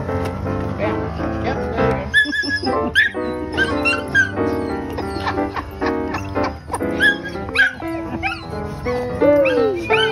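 Several puppies barking, yipping and whimpering on a ranch, a busy, close chorus of high-pitched yelps and whines that overlap irregularly for about ten seconds, with faint voices mixed in.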